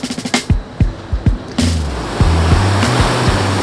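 Wave pool machinery at an Alaia Bay surf park in the Swiss Alps sets off a run of sharp mechanical thumps and whooshes, then a steady rushing roar of generated surf with deep pulsing tones, loud and close.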